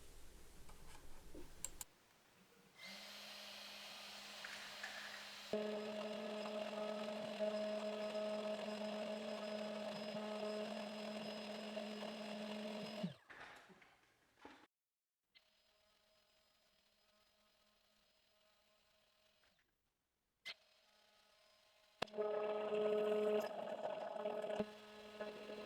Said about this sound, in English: Then on to the router to mill.